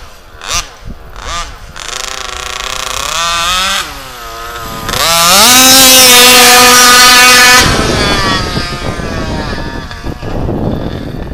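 An HPI Baja RCMAX 90 RC car engine after needle tuning, buzzing loudly through repeated revs with one long high-pitched blip, then dropping back to a rough idle.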